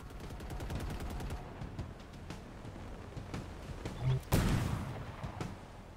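Scattered distant gunfire echoes through a Halo Infinite battlefield, faint rapid bursts early on, then a louder single crack near the end over low ambient rumble.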